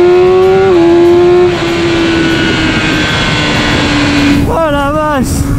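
A 2021 BMW S1000RR motorcycle runs at very high speed on the autobahn, its engine a loud, steady drone under rushing wind, with the pitch dipping briefly and then climbing again near the end.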